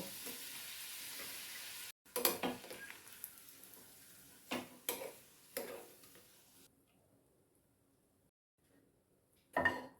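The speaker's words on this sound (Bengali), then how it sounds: "এইভাবে সমস্ত পাপড় আমি ভেজে তুলে নেব" Papad frying in hot oil, heard as a steady broadband sizzle for about two seconds, then a few crackling bursts and scraping stirs. The pan falls nearly silent before one final sharp clatter near the end.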